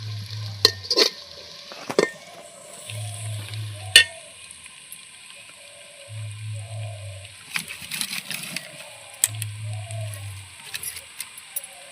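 Onions frying in a pan and being browned further, with a steady low sizzle broken by repeated bursts of stirring and scraping and a few sharp clinks of the spoon against the pan.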